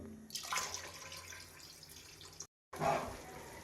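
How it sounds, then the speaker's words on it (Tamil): Water pours into a pressure cooker over soaked rice for country-chicken biryani, a close splashing gush that trails off, followed after a short gap by a second brief pour. "மூணு டம்ளர் அரிசி ஊற வச்சுருக்கிறோம் நம்ம அதுக்கு மூணுக்கு ஆறு டம்ளர் தண்ணி ஊற்றிக்கலாம்"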